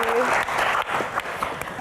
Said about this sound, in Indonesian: tepuk tangan sekali lagi untuk Queen kita